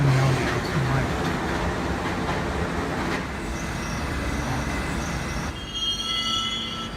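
Subway train running in a video game, a steady rumble of wheels on rails with squealing tones and a clear whistle-like tone near the start, loud and continuous throughout.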